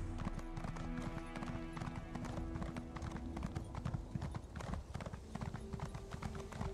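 Horse hooves clip-clop in a steady, rapid galloping rhythm while riding in The Elder Scrolls Online Morrowind expansion, loud and continuous over game music, with a voice speaking over it.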